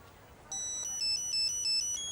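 A cell phone ringtone cuts in after a short stretch of quiet room noise, a bright electronic melody of repeating beeping tones that plays steadily and fairly loud until the end.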